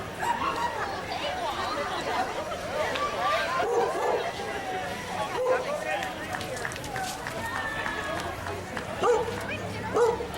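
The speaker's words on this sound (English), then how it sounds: "And there's another dog over there" Dogs bark repeatedly at a busy outdoor parade, sharp yaps scattered at mid distance among crowd noise, with someone talking close by throughout.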